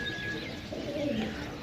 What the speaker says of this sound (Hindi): उड़ने वाले कबूतर यारा